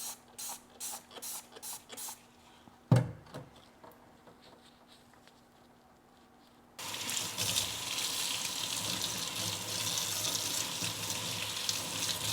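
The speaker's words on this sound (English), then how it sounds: "let's rinse these and clean these under the sink really quick." Plant pots are rinsed under a kitchen sink tap. Quiet clattering comes first, then water runs in a steady rushing stream until the end.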